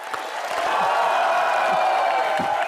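Studio audience on a Hindi comedy talk show claps and cheers, a dense steady wash of applause with whoops swelling and holding loud throughout.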